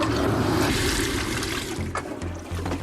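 Water drains from a toilet bowl after a flush, a steady loud rushing and gurgling swirl that runs throughout with choppy low churning toward the end.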